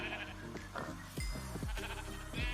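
Minecraft sheep bleating near and clear, several short wavering bleats in quick succession with a little game ambience between them.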